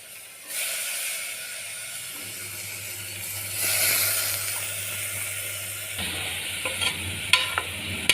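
Finely chopped ridge gourd sizzles steadily in hot oil in a home kitchen while it is sautéed, with scraping stirs and a few sharp utensil clicks near the end. No one speaks.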